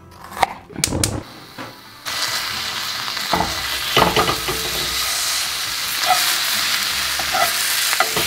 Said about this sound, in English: Now that I browned up the sausage